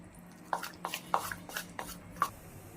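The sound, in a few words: mixing jowar flour uttapam batter with oil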